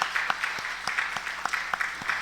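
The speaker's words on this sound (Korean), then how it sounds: "우리 찬양대 축복하면서 우리 한번 박수합시다" A church congregation claps for its choir after a Sunday service hymn, a steady patter of many hands with sharper individual claps standing out at a moderate distance.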